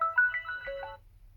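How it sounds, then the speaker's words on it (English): Short melodic ringtone chime on a Huawei P60 Pro phone, a few bright notes played close and clear for about a second before stopping. "And the ringtone is now changed."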